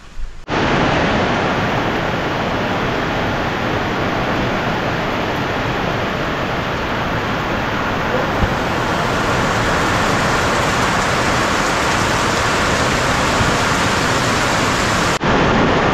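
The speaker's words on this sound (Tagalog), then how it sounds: "Lakas na naman po ng ulan mga kautol." Heavy typhoon rain pours down in Calaca, strengthened by monsoon winds, as a dense, loud, unbroken roar that begins abruptly and holds steady throughout.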